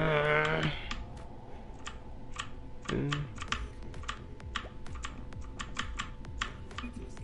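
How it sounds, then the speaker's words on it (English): Rapid clicky keystrokes on a mechanical keyboard, sharp and close, with a couple of short tonal beeps early on. "Why is your keyboard so loud, Johnny?"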